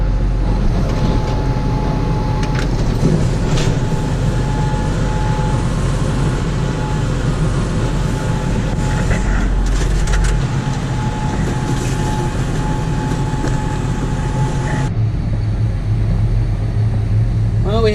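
A 7630 tractor engine runs steadily during a snowstorm before being hooked to a snowblower: a constant, loud low drone with a faint steady whine that continues unbroken throughout.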